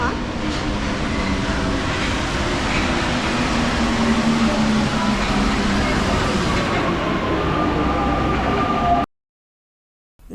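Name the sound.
Paris metro line 6 train running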